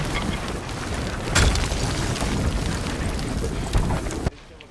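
A gunpowder store aboard a ship explodes in a naval combat video game, a loud sustained blast with heavy rumble and a second boom near the end before cutting to quiet.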